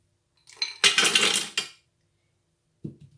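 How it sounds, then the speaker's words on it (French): Chocolate is dropped into the metal bowl of a Thermomix TM6 for brownies, a brief close clatter of pieces landing, followed by a single faint knock a moment later. "On va commencer, on ajoute le chocolat."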